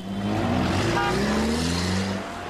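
A souped-up BMW car driving, its engine note climbing in pitch as it accelerates, loud and close, alone without talk.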